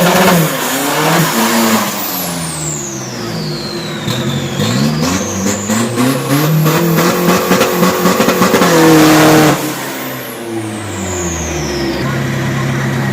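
A modified drag racing car, a 1.9 Pro build, makes a timed run, its engine revving loud and close with rising and falling pitch sweeps and repeated gear changes that blur into a sustained roar, with an engine whine returning near the end.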